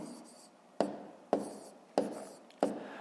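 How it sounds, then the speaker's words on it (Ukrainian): A pen writes numbers by hand on paper while working a multiplication exercise. Four crisp, close strokes tap out at a slow, uneven pace against a quiet background. "Пишемо"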